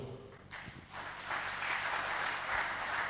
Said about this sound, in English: Round of applause for the EFCC chairman